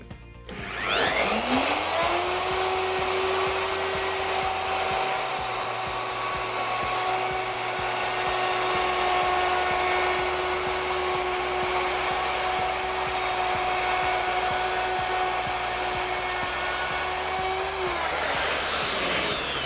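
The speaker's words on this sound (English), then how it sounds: "What I'm going to do is router a nice beveled edge all the way around all four sides." An electric router cuts a bevelled edge along pallet wood, a loud, steady high whine holding for about sixteen seconds after a rising spin-up, then winding down at the end.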